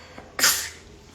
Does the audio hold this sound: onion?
no